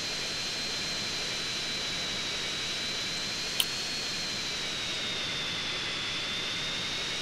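Steady airplane engine roar in GTA San Andreas, a constant broadband rush with a thin high whine running throughout, with one brief sharp click midway and no talk.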